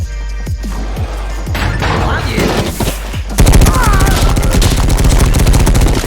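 Rapid gunfire from the video game Madness Project Nexus, loud and dense, with repeated shots, crashes and impacts over game music, growing into a continuous barrage in the second half.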